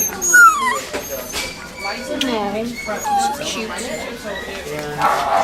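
A puppy at an animal shelter whimpers and yips in thin, high, wavering cries, with occasional small barks, heard close under people chatting nearby.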